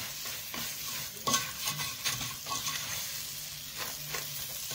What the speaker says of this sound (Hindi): हल्की आंच पर हम इसको भूनेंगे 4-5 मिनट के लिए।